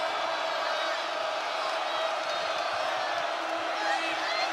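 A college basketball arena crowd for Auburn against Bethune-Cookman cheers and roars steadily after a drive to the rim, a dense sustained wall of voices with scattered whoops throughout.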